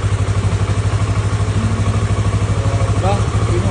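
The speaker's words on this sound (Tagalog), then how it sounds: "hayaan ko muna siya umandar saglit para uminit yung makina" A motorcycle engine idles just after starting, warming up with a steady, close, pulsing putter and light mechanical clatter while a person talks over it.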